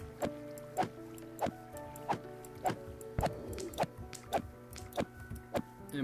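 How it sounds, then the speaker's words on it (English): Glitched flowing water in Minecraft, heard as a steady run of wet drips and squishy plops, about two per second, over a low steady hum, with no talking. "And plus it makes really glitched water like that."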